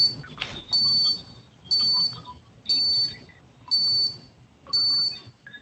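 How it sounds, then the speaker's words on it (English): A phone line dialing in to a district court small claims hearing gives five evenly spaced, loud electronic ringback tones, each about a half-second long with short gaps between them, heard alone without speech. "Branch County is dialing in"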